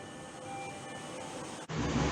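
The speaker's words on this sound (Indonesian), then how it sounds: "Kereta kembali melanjutkan perjalanan." Jakarta MRT train pulling out of a station, a steady rolling rumble with faint motor whine that suddenly swells into louder, rougher rushing noise near the end.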